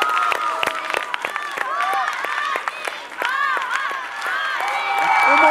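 A crowd applauds and cheers after a dance performance at a televised dance-competition gala. Clapping sounds full and sustained, with shrill whoops and whistles scattered throughout and voices mixed into the noise.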